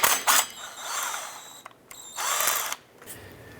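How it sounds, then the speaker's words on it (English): An impact wrench with an Allen swivel extension removes the hex bolts from a 2002-2007 Jeep Liberty front driveshaft flange, giving several loud, rattling hammering bursts separated by short pauses. "use our Allen swivel extension and our impact to remove all of these"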